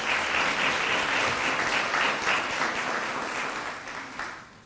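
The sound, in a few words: applause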